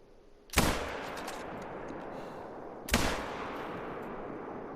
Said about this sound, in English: I put 2 shots into him.